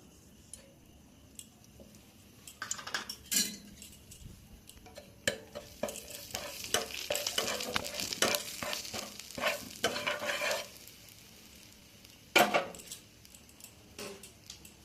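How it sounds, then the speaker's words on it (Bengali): Asafoetida dropped into hot ghee in a pan, a bursting crackle and sizzle building between quieter stretches, mixed with clinks and scraping of a spoon stirring, close up and without speech. "ঘি গরম হয়ে গেছে, এবার আমি দিয়ে দেবো হিংটা"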